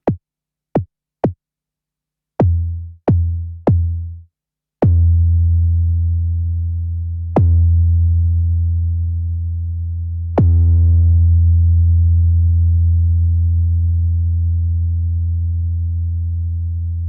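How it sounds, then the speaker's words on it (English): A 1978 Simmons SDS-3 drum synthesizer plays tones with varying decay: several short clicky hits in quick succession, then longer pitched strikes that ring out and sustain, each new hit cutting the last, loud and clear with no talk. "Below that we have decay time that allows you to create tight and clicky sounds, long sustained sounds, and everywhere in between."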